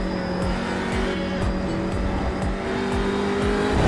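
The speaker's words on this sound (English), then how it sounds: "we're going to try a flying lap of Brands Hatch in the Audi RS3" Audi RS3 LMS TCR race car lapping Brands Hatch on a warm track, its engine droning loud and steady with repeated rising gear-change sweeps and a tyre squeal.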